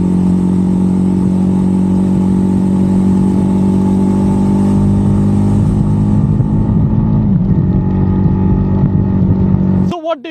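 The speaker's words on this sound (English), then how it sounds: "So what do you think about the exhaust note of the new Jawa 350?" A new 2024 Jawa 350 motorcycle's exhaust while riding, a loud, steady, rumbling drone that holds for about ten seconds before cutting off abruptly.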